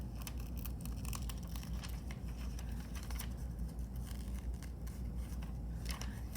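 Scissors snip and crunch steadily while paper is carefully cut around the edge of a plastic piece for bottle cap magnets, a soft, close, irregular rhythm of small cuts and rustles.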